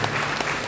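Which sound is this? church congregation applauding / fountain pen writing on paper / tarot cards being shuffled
church congregation applauding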